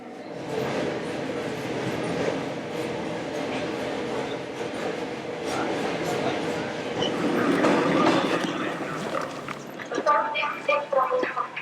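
Inside an electric commuter train car waiting to depart, a steady rumble and hum fill the space while people talk nearby, with some clattering toward the end.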